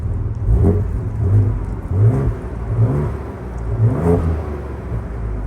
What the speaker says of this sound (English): we'll just do quiet mode and give it some revs